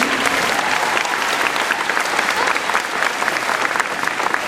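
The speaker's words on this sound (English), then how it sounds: "you can run a round of applause for the NYPD." Crowd at an NYPD police academy graduation gives a loud, sustained round of applause, a dense, even roar of many hands clapping for several seconds.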